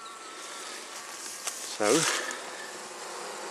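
Honey bees buzz around a swarm nuc outdoors, a constant fizzing hum that runs through the whole clip while someone briefly speaks partway through.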